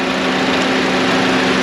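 A Honda Civic engine runs steadily at idle, a loud continuous hum with an even buzzing drone, close up with no talking.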